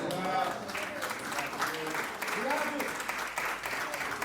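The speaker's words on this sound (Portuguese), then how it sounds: "dá a tua melhor salva de palmas nesta manhã" A church congregation applauds during a Sunday morning service, a steady wash of clapping that runs the whole stretch, with voices rising over it.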